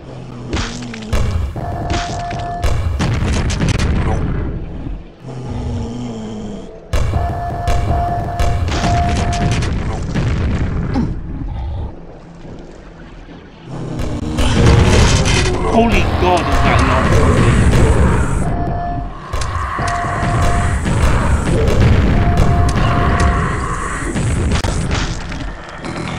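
Repeated booming rocket explosions and heavy thuds in the game Quake 1, loud and close, mixed with other combat noise and a voice talking over parts of it.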